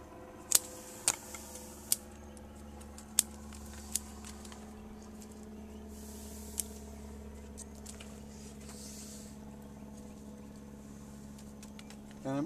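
Pruning shears snip branches on a Carissa bonsai, a few faint, sharp clicks scattered over a quiet room hum, with soft handling noise between cuts.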